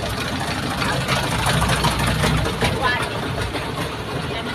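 A motorboat engine idles at a floating market with a steady, throbbing mechanical rumble, fairly loud and constant, while people talk over it.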